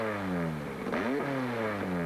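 A Cooper racing car with a 2.5 litre Coventry Climax engine, a smooth engine note that rises and falls as it revs through gear changes, heard fairly close for a couple of seconds.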